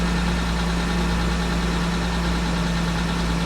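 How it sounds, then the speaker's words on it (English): A 1989 Toyota Land Cruiser FJ62 with the 3FE engine idles steadily with a low, even hum and a constant droning tone, close and uninterrupted, with no voices. "Looks like it's idling a little lower on this start"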